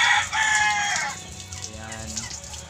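A rooster, one of two young cockerels on a farm, lets out a single loud, close crow followed by a softer trailing call.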